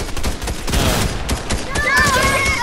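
Rapid bursts of video-game gunfire from a no-build squads match crackle in quick volleys, loud and close, with excited players talking over the shots.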